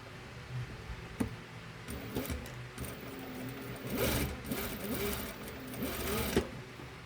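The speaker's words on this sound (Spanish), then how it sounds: "paso la costura y luego paso la otra bien" A sewing machine stitches the seam of a blazer's breast pocket in short, close bursts of fast mechanical whirring, with pauses and small clicks between runs.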